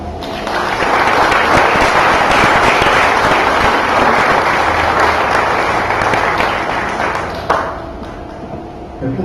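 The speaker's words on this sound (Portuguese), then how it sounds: "Aplauda o Senhor." A church congregation at a worship service breaks into sustained, loud applause that holds steady for several seconds and then thins out toward the end.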